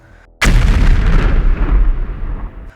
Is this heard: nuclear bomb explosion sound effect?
yes